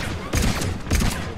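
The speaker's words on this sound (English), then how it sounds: "Angry turret." Two bursts of turret fire in Mass Effect 3 co-op on Firebase Hydra, short loud rattling volleys separated by a brief gap, close and prominent.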